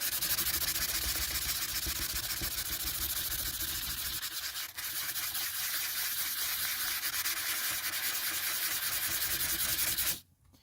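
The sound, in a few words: rubbing a rough rainbow opal stone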